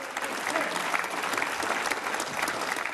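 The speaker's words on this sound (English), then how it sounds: "The applause from across the chamber went on" Sustained applause fills the Senate chamber, a dense, steady wash of clapping from many hands that continues unbroken throughout, with a faint murmur of voices beneath it.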